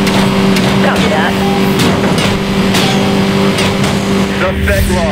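A silver supercar's engine screams at high revs during a police chase in Need for Speed Most Wanted, loud and steady beneath game sounds, with dispatch radio chatter over the top.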